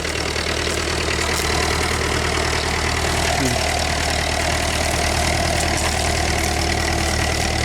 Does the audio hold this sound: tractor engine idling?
yes